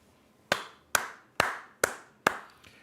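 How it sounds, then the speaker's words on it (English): Five sharp hand claps ring out close and alone at a steady, slightly uneven pace of about one every half second, each ending in a short room echo. "You didn't get to see me clap."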